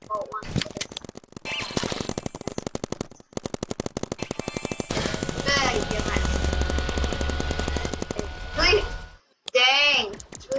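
Paintball guns in a video game fire in rapid, loud automatic bursts with brief pauses between strings, ending in a few separate shots, while a voice talks over the shooting.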